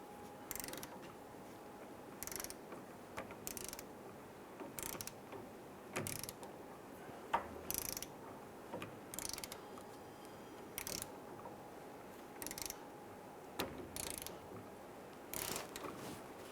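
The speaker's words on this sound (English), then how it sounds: "We're going to use our wrench here, and we're going to go ahead and torque this down to 128 foot-pounds." A torque wrench tightening a strut bolt on a 2005-2010 Chrysler 300 gives faint, evenly spaced mechanical clicks about every second and a half in a quiet garage.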